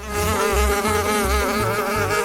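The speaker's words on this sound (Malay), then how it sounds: "Ada lalat." A housefly buzzes close up, a loud continuous whine with a steady pulsing low hum beneath, unbroken for the full two seconds.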